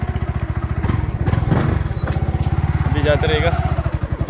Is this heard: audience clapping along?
no